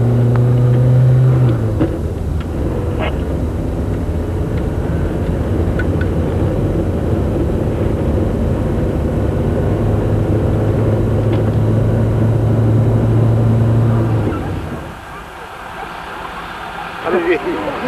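A car engine hums steadily from inside the vehicle as it drives to the ramp start of a long-jump world record attempt, with engine tones shifting as it moves, dropping to a quieter idle near the end.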